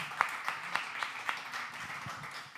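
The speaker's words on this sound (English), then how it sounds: "Please, a round of applause to them, though" Scattered, faint clapping rises from a small audience at an Expo 2020 Dubai panel session, with a handful of distinct claps spaced evenly over a quiet room.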